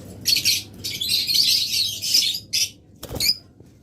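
Pet budgerigars, cockatiels, lovebirds and mynas at a bird shop chirp in quick, bright bursts of tweets, close and fairly loud, with a short gap and a soft knock before the chirping resumes.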